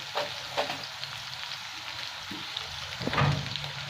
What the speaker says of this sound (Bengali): খুব ভালো করে কষে দিচ্ছে ওই মশলাটা